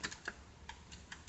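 A few separate taps on the spacebar and keys of a CoolerMaster Storm Quickfire Rapid keyboard with Cherry MX switches. Each press is a short, distinct click with gaps between them, heard close and fairly quiet.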